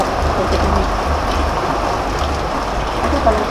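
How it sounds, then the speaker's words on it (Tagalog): Heavy rain falls steadily outdoors in Lopez, Quezon, a dense continuous hiss of water with no break, close and fairly loud. "grabe ang ulan."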